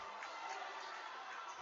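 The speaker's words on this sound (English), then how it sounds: "as the Monroe fans cheer on their team" Basketball fans of the Monroe team cheering at a district playoff game, a steady wash of crowd noise and shouts filling the gym.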